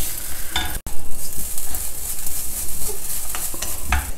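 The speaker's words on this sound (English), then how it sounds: "Then finally add about 3 tablespoons of fresh grated coconut. Just stir it for a minute or so." Fresh grated coconut stirred in a hot pan, a close, loud rumbling scrape of a spoon with a soft sizzle and a few sharper knocks against the pan, no voices.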